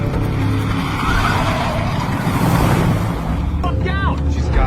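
A sedan speeding in a chase with tires skidding, a loud continuous roar of engine and road noise and squealing tire tones rising near the end.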